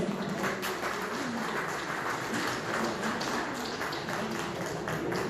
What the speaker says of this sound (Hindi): सभी के लिए जोरदार तालियां